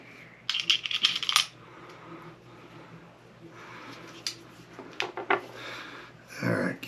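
Metal parts of a Beretta model 1934 pistol are handled as its original barrel is refitted, giving bursts of sharp close clinks and rattles separated by quieter pauses.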